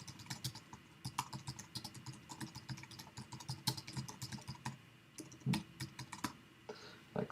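Rapid typing on a computer keyboard while editing in WordPress, a steady run of close, crisp key clicks with a few louder strikes and no talking.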